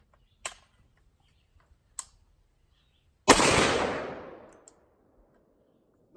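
A .458 SOCOM AR-15 rifle fires outdoors, two short sharp cracks a second and a half apart, then a louder, closer blast with a long decaying boom, the shots standing alone against quiet.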